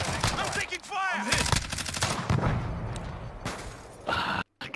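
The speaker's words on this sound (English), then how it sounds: "I'm taking fire!" Rapid video-game gunfire crackles in dense bursts through a hectic firefight, loud and close, with a player's voice speaking over parts of it and a brief drop to silence near the end.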